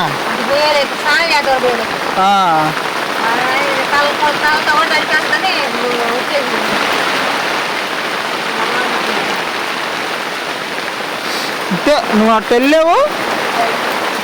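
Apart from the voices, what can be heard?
sudden heavy rain at night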